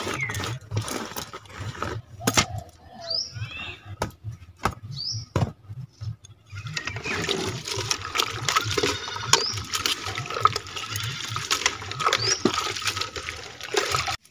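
Water spinach is washed by hand in a bucket of water while cooking in Odisha. Scattered clicks and splashes give way to continuous sloshing and swishing water in the second half, with a voice talking over it.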